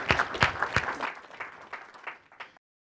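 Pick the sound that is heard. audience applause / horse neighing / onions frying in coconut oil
audience applause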